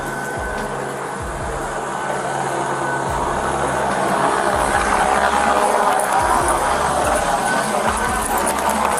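A police helicopter drones loudly and steadily overhead, its rotor noise filling the whole stretch without pause.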